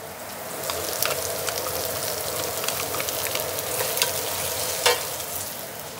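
Tomato paste and beef bouillon frying in hot oil with herbs and vegetables for a braised Charolais chuck roast, a dense continuous sizzle and crackle with light stirring scrapes and one louder pop, close, no talking.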